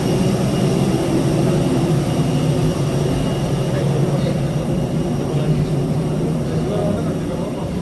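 Airbus jet engines roar steadily at Hyderabad International Airport after landing, a continuous loud broadband drone that holds level throughout, with people talking over it.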